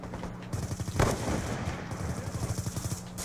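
Rapid gunfire from a Black Ops 2 match, a sniper rifle in play, with dense repeated shots rattling continuously across the clip, one louder burst near the start, and no talking.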